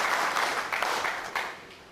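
Audience applause at a two-day workshop in Niger State: steady, moderately distant clapping from a crowd fills the moment, with small surges of claps along the way.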